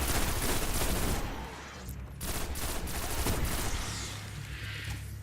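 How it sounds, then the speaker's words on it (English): Rapid video game gunfire from a Destiny raid, dense overlapping shots and bursts firing loudly and continuously, easing briefly midway before picking up again, with no talking. "Ooh, that was a headshot on the move."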